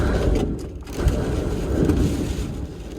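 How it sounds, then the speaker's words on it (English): A storm batters a camper van in Ireland with a loud, continuous low roar of wind and rain against the vehicle, rising and falling in gusts and drumming steadily with no voices. "it's impossible to sleep as the storm is not subsiding"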